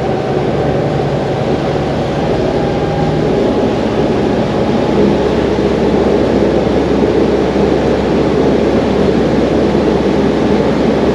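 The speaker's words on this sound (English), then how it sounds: "You get more commotion from that diesel motor." A loud, steady diesel engine roar from a Delphia 11 boat at high revs, with a deep rumble, holds for the whole stretch. No one speaks.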